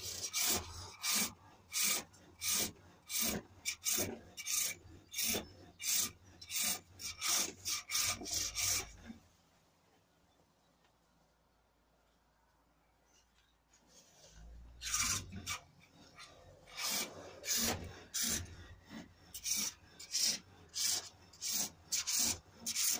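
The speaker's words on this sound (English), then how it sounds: "sandpaper, an 80 grit and a 120 grit. The 120 does quite a lot of the smoothing off of the major bumps." Sandpaper rasps against a small cherrywood bowl turning on a pole lathe, in a steady run of loud, rhythmic strokes that stop for several seconds of near-quiet and then resume at the same pace.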